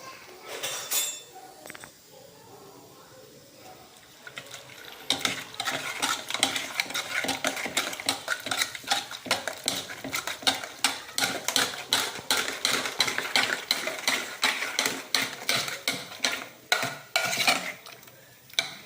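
Cooked okra being mashed and churned in a pot for vendakkai kadayal, giving a steady run of rapid scraping, clinking strokes against the metal, close and fairly loud, after a few quieter seconds.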